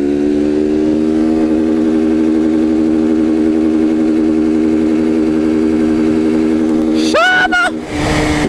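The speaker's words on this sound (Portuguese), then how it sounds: "É corte de giro, meu filho" Motorcycle engine held high against the rev limiter, a loud steady buzzing drone for several seconds before cutting and stuttering near the end, with voices briefly audible.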